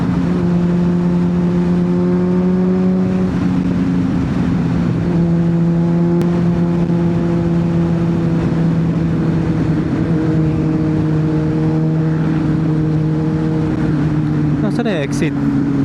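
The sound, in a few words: Honda CBR600RR motorcycle engine while riding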